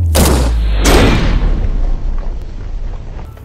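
An M1 Garand rifle fires an armor-piercing .30-06 round at a Russian VANT ballistic shield, producing one loud, sharp boom and then a second report that rolls off into a fading outdoor echo.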